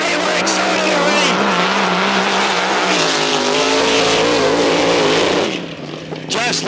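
A supercharged alcohol-burning big block Chevrolet race boat engine roars loud and sustained on open water during a warm-up run, then drops away abruptly near the end.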